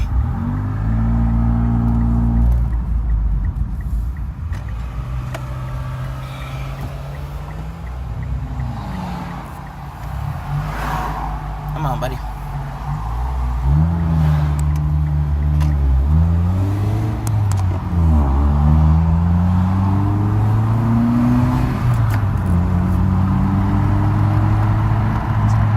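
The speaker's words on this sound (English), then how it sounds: "We're gonna put the phone somewhere so you guys can really hear the engine." A Mitsubishi Lancer GTS engine with a straight-pipe exhaust revs repeatedly from close range, its loud rumble rising and falling in pitch through the whole stretch while a voice speaks briefly over it.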